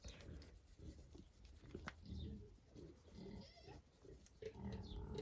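A pig on an off-grid homestead grunts and snuffles close by in a short run of low, rough bursts, with steady outdoor background noise and no talk.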